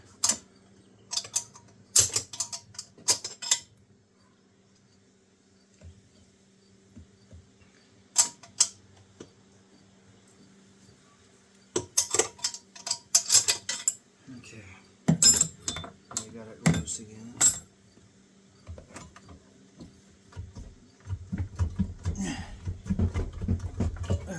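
Special wrench working on the stator of a Sea-Doo 951DI engine: clusters of metallic ratcheting clicks and clanks come in bursts separated by quiet pauses, close up, with a faint hum and some handling noise.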